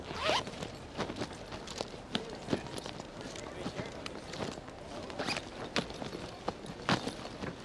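Bags zipped shut while packing up after a match, a run of quick rasping zipper pulls and rustles repeating through the scene, with faint voices in the background.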